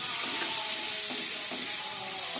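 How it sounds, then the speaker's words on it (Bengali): Potatoes seasoned with salt and turmeric frying in a pan, a bright steady sizzle with light crackles and a few soft stirring scrapes, close and constant. "এবার আলুটা একটু ভাজা হোক"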